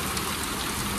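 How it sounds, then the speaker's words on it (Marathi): Heavy rain pours steadily in a forested rural area, a dense, even hiss of drops on surfaces close by with no pause and no voices. "मजबूत पाऊस सुरू झाला"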